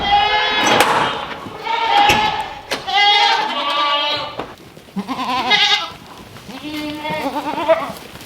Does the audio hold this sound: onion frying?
no